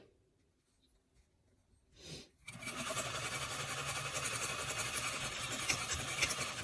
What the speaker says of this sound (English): Put the other end of the elastic at the bottom right as I'm going to sew down.